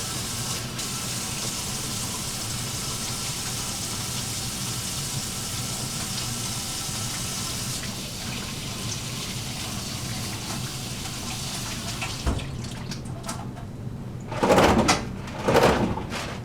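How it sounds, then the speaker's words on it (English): Hands are washed with soap under a running tap in a long, steady wash of water that stops late, followed by a couple of louder handling bumps and splashes near the basin. "So I'm going to step over here and wash my hands"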